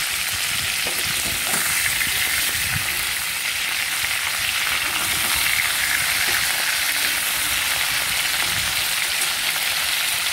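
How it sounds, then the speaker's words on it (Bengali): Fish pieces sizzling in hot oil in a pan while being turned over to fry the other side, a constant crackling hiss with occasional stirring scrapes and bumps, close and unbroken throughout. "উল্টে দিচ্ছি আর এক পিঠটা ভাজা হয়ে যাবে।"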